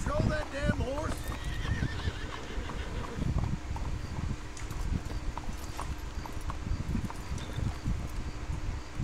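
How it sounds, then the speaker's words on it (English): A horse in the Red Dead Redemption 2 video game whinnies and neighs near a cemetery while hooves clop steadily, with voices talking over the sounds. "Can't you control that damn horse?"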